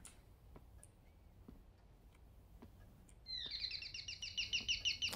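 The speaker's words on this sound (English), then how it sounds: "there's a bird in here" A small bird in the video game Devotion chirps in a rapid, clear series of high tweets that grows louder near the end, after a quiet stretch with faint ticking.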